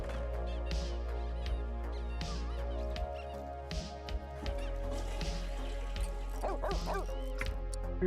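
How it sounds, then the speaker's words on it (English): A dog in The Sims 3 video game barks and yips in short repeated bursts over steady game music and ambience, with a few higher whimpering yelps near the end. "You're woofing out there, Luke."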